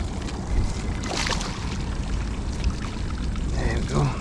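Water and small fish poured out of a container back into a roadside ditch, a broad splashing wash lasting a few seconds outdoors with light wind noise.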